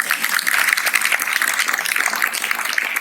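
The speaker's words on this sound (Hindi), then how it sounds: "तो इन हमारी बेटियों के लिए जोरदार तालियां होंगी" A college audience at a Women's Day event claps loudly and steadily to cheer young women students, with no voices over the applause.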